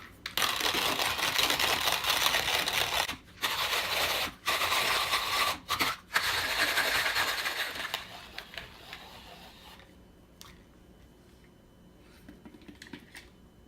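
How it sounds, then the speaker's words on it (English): A Handground hand coffee grinder set to its coarsest setting crushes about 17 grams of coffee beans with a steady, close, gritty crunching that pauses briefly a few times, then stops, leaving faint scattered clicks. "about 17 grams of coffee on the biggest setting. So now I'm going to grind this out at the biggest setting."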